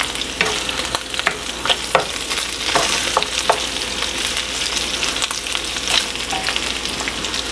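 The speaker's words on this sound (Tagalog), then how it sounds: "medyo napaprito na siya" Close, steady sizzling of chicken, liver and gizzard frying in a pan for adobo, with occasional sharp taps and scrapes from stirring.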